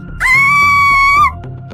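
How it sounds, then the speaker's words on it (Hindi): A woman's loud, sustained scream in a horror story, one high wavering cry lasting about a second and breaking off sharply, heard alone and close. "कहते हुए मिताली जोरों से चीखने लगी।"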